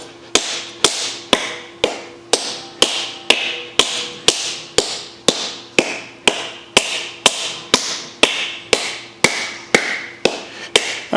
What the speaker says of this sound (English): I'm just using a dead blow plastic mallet here.